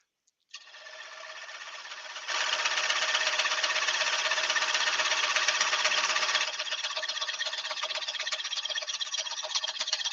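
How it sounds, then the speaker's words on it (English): A power sander runs on a workpiece with a steady buzzing whir, starting abruptly, growing louder and rougher as it presses into the surface, then easing to a lighter hum, with no speech over it. "Right, get this sanded off."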